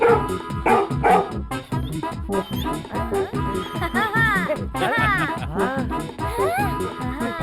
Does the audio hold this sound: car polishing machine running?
no